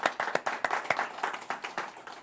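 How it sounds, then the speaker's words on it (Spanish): A church congregation claps during a Spanish-language sermon, a fairly close run of quick, uneven hand claps lasting a couple of seconds with no voices over it. "Dele fuertes aplausos al Señor"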